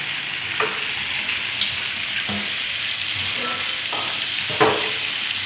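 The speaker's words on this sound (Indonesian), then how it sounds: "Goreng tempe." Tempeh frying in a pan gives a steady, close sizzle and crackle, with a few brief scraping or stirring knocks breaking through the hiss.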